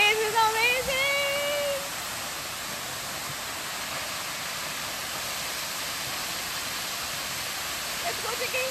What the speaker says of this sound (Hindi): और ये हम आए हैं waterfall पे.